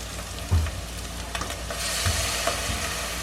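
Soy sauce sizzles in a wok of vegetable pancit bihon rice noodle stir-fry, a steady bright frying hiss with a few soft stirring knocks and scrapes, close and without talk.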